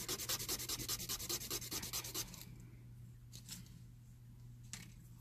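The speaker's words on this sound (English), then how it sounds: "just sand it to a point, flip it over" Hand sanding a small square piece down to a point, about twenty quick rhythmic back-and-forth rasping strokes close up, then stopping, followed by a few faint scrapes and taps against a low background hum.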